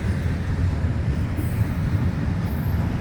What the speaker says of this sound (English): That was a big train.